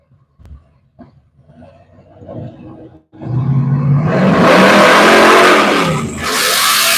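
Drag race car launching down the right lane at U.S. 131 Motorsports Park, a quiet idle and crowd murmur giving way to a sudden loud, roaring engine surge that stays near and intense, briefly dipping before roaring again.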